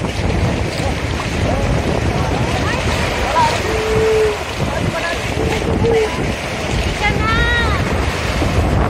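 Strong sea waves churn around a boat at a marine sanctuary, with wind buffeting the microphone and steady rushing water, while people talk and call out faintly over the noise.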